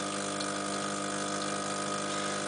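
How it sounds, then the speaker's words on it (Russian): Rowenta Prelude ES 5100 espresso machine pumping water out through its drain, a steady droning pump hum with an even watery flow, continuous and close, no voices. "Вот, идет слив воды."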